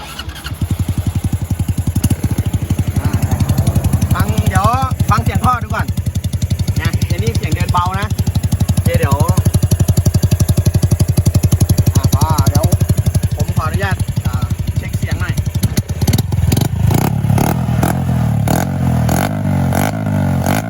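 Honda Wave 110i motorcycle built with online-bought aftermarket parts, its engine started and revved repeatedly up close, a loud continuous engine roar with rising and falling pitch sweeps and a sharper revving stretch near the end.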